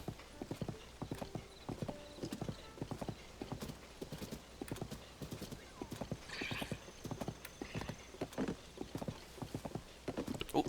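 Horse hooves clip-clopping steadily during a ride in the video game Zelda: Tears of the Kingdom, a brisk, even rhythm of close, crisp footfalls with a brief whinny-like sound partway through and faint speech in the background.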